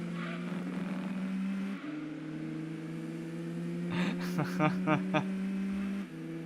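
Race car engine in Gran Turismo 2 holding a steady high drone, then a cluster of sharp tire-squeal bursts as the car loses control and skids, fairly quiet overall.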